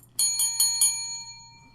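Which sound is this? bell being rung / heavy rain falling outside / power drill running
bell being rung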